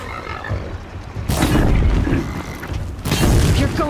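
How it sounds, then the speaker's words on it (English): Explosions in the video game Horizon Zero Dawn at a bandit camp: two loud, booming blasts go off about two seconds apart, each a broad, sudden burst that rumbles on briefly after a quieter stretch of game ambience. "Let's scare them with a real explosion."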